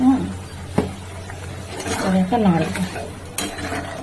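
Green peas curry being stirred in a pan, with soft scraping and occasional clinks of a spoon against the pan, while someone talks over it.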